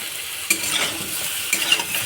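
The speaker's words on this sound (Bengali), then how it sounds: "বেগুনটা খুব ভালো করে ভাজতে হবে একদম একদম লাল করে বেগুনটা ভেজে নিতে হবে" Continuous bright sizzling of food frying in oil, with a couple of light utensil scrapes against the pan.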